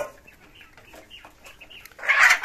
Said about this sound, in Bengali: এই যে দেশি মুরগি এখানে যেগুলো আছে দেখতে পাচ্ছেন